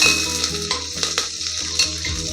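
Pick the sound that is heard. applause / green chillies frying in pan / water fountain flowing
green chillies frying in pan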